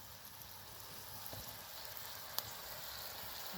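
Homemade sausage sealing on a plow disc over an outdoor fire, giving a steady, faint sizzle of frying fat with a few small pops and one sharp crackle, no talk.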